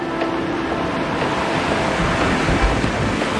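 A rocky, boulder-strewn whitewater rapid on a creek kayaking run roars with a loud, continuous rush of water mixed with wind buffeting the microphone.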